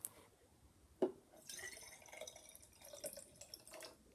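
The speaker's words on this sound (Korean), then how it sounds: "첫 번째 유리병에 물을 넣겠습니다." Water poured into a glass jar for a homemade lava lamp, a quiet splash followed by a few seconds of soft trickling and filling, close by with no talk.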